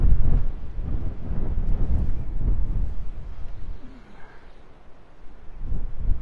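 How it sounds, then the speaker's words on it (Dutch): Strong gusty wind buffets the microphone in heavy low rumbles, easing briefly before surging again, with faint birds in the background. "Het is jammer dat het zo heel hard waait."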